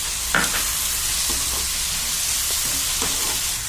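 Tomatoes and cashews going into a frying palak paneer masala, a loud continuous sizzle with a few soft stirring clinks and scrapes, close and without talking.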